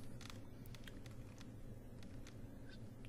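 Keys on a computer keyboard are tapped in quick irregular clusters during Photoshop brush editing, light close clicks over a quiet low hum.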